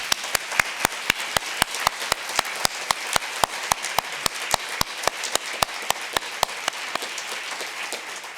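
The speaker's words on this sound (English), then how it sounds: "a round of applause, please, for everyone involved" An audience at a symposium closing keynote applauds with steady massed clapping, fairly loud and even, while one clap lands on a regular, evenly spaced beat, and no one speaks.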